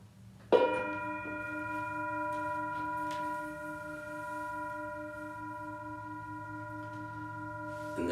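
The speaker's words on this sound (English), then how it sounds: "sound of the bell" A meditation bell struck once, its bright attack followed by a long, steady ringing tone with sustained overtones that slowly fades but carries through the whole moment, with no talking.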